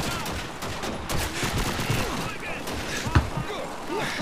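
Dense battlefield gunfire in the World War II shooter Call of Duty 2, rapid overlapping shots and bursts mixed with game sounds and voices throughout.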